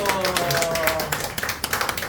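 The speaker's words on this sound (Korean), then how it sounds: "자, 박수." A congregation claps during a Sunday church service with a baptism ceremony. A voice speaks over the start, then sharp, scattered claps stand out more clearly toward the end.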